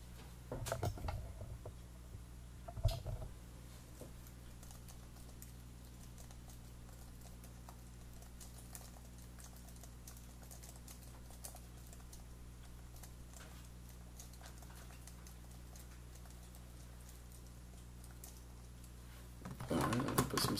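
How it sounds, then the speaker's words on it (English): Light, scattered clicks of typing on a computer keyboard, used to enter a music score in Microsoft Word, come through faintly and irregularly over a low steady hum, with a few louder taps near the start and end. "So now let's just start typing."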